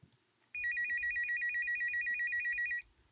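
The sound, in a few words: reception desk phone ringing in visual novel game Slow Damage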